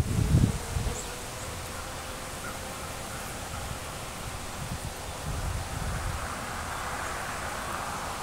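Steady buzzing of honeybees and a yellow jacket wasp close by in cold weather at a dry sugar feeder, a low continuous drone with a louder burst at the start, no voices.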